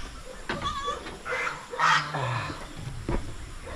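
A few short goat bleats sound close by on a small farm pen holding male goats and newly born kids, with brief rustling and shuffling between the calls.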